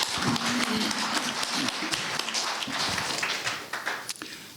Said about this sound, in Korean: 다시 한번 박수로서 감사를 표하겠습니다